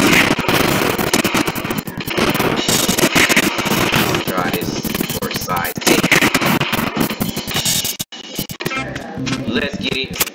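Video game gunfire, dense rapid shots and booms packed together loudly and continuously, with a voice talking over the shooting.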